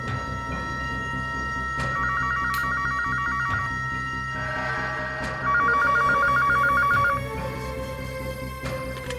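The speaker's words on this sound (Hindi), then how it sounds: "फोन लगा के देखता हूँ, घर पे होगा तो फोन जरूर उठाएगा।" A telephone rings in two distinct bursts of rapid electronic trilling in a scene from the Indian crime drama CID, set against low background ambience with no speech.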